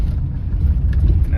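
A 1987 Mercedes-Benz fitted with a turbo runs close by, its engine giving a steady, loud low rumble through a short burst.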